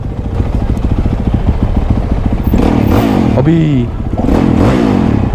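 A Honda CRF 250 dirt bike engine runs loud and close with a throbbing, clattering rumble that swells partway through, while someone talks over it.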